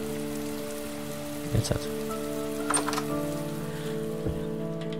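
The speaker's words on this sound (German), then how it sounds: "Es regnet ja auch" Steady rain falls in the Heavy Rain video game, a constant wash of patter with a few brief knocks over a low tonal music bed, while someone says a couple of words.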